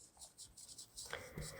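A pen scratches across paper as a quadratic equation solution is written out by hand, giving soft, rhythmic strokes at close range with faint background hiss.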